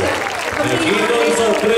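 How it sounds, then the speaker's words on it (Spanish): An audience claps at a singing-school award ceremony, steady applause filling the room, mixed with crowd noise and a voice talking over it. "Aplausos, por favor."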